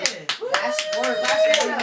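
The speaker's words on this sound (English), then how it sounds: "Clap that up." A few hands clap in quick, uneven bursts during an interview broadcast, the claps sounding close and sharp while a voice talks over them.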